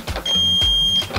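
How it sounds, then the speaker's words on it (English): A smart door lock gives a warning beep when its handle is forced: one steady electronic tone of close to a second, sounding close and clear over faint handling noise. "it will beep for you to give you a warning that it's not accepted"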